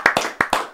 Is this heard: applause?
yes